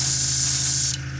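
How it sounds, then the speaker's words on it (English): An airbrush sprays Army Painter air primer down from above onto a miniature for zenithal priming, giving a steady loud hiss that drops off sharply near the end. "I think I'm going to try to kind of spray it down from the top."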